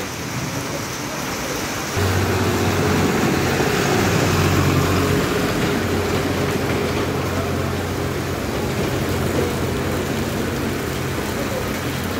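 Heavy rain pours onto an open market ground on a dark morning, a dense, even hiss that swells after a couple of seconds and holds steady, with a low vehicle hum underneath.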